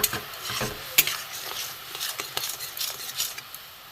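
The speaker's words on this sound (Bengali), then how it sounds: "ঝোলটা ফুটে গেছে" Vegetable curry gravy bubbling and simmering in a pan for a stuffed pointed gourd (potol) dish, with soft popping and sizzling and a few clinks of a utensil against the pan, up close with no talking.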